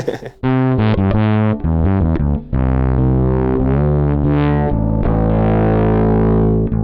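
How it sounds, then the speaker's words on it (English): Fretless bass guitar played through a Ghost distortion pedal, sustained gritty notes with sliding pitch, a quick run of plucked notes leading into long, loud, fuzzy held tones alone. "I think just a tiny bit of distortion goes a long way here"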